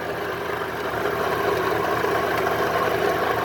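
A 2009 Cadillac CTS-V engine idles with a noisy supercharger isolator, giving a steady, close, droning engine sound with a continuous rattling undertone that holds throughout.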